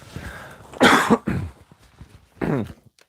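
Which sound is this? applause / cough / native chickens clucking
cough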